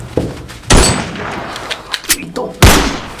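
Gunshots ring out during a police encounter scene in a Hindi audio drama, with two heavy blasts and a few smaller sharp cracks between them, set against noisy background sound.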